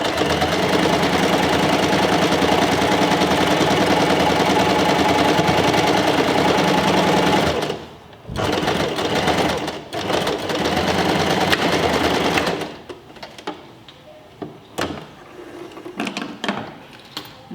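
Sewing machine stitching an envelope-style cushion cover with contrast thread, a loud, continuous mechanical whir that runs for several seconds, then stops and restarts in short bursts before falling quiet.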